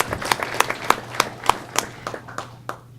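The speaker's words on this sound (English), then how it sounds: "Let's applaud nonetheless." Audience at a school board meeting claps in a brief, sparse round of applause, scattered individual claps spread over a few seconds and fading toward the end.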